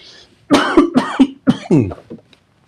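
A series of rough, close coughs, several bursts in quick succession, loud and clear against near silence.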